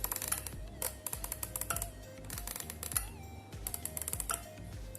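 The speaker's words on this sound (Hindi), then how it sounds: "इस तरह से ये क्लिकी साउंड आपको आएगी।" The thermostat switch of a clothes iron clicks on and off in a quick, irregular series of small, sharp clicks, close and fairly quiet.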